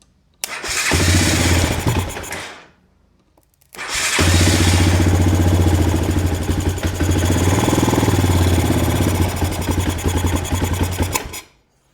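A 1998 Honda Recon 250 ATV engine catches on choke, sputters out after a couple of seconds, then starts again and runs at a loud, close, steady idle.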